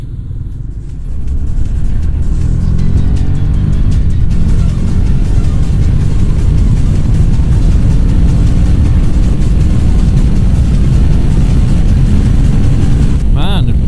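A motorcycle engine pulls hard under acceleration on a cold ride in Goa. A loud, continuous engine roar with strong wind rumble holds throughout and rises in pitch as the bike gains speed.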